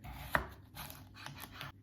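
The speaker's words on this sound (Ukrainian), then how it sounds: "Огірочок розріжу на двоє." A single sharp knife cut through a cucumber on a cutting board, with faint scraping and tapping sounds following in a quiet room.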